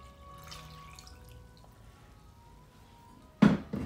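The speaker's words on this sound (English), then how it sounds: "You pour the milk on it." Milk poured over salted cod with bay leaf and peppercorns in a cooking pot: after a quiet stretch of kitchen room tone, a brief, close splashing pour bursts in near the end.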